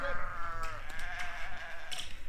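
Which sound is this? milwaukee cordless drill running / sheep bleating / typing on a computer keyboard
sheep bleating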